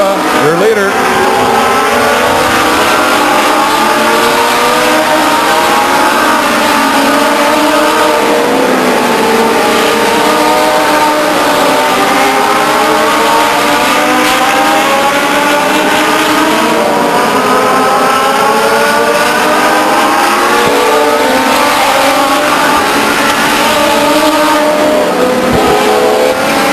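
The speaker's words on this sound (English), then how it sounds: "motorcycle motor-powered race cars around this 4th mile racetrack" Legends race cars powered by motorcycle engines roar around a quarter-mile oval at Stockton 99 Speedway, a loud continuous pack of high-revving engines with overlapping pitches rising and falling as cars pass.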